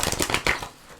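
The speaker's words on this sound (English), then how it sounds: "Two more shuffles." Tarot cards are shuffled in a few quick riffling bursts, close and crisp, fading into quiet near the end.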